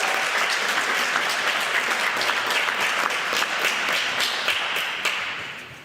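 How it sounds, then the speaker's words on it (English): An audience at a community public safety meeting breaks into loud, sustained applause, with dense, even clapping that holds steady for several seconds before fading at the end. "Give him a round of applause as he comes on up."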